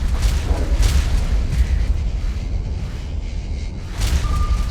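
Missiles launching and detonating in the space combat game Starsector, a dense rumbling barrage of booms and bursts that carries on continuously, loud and close throughout.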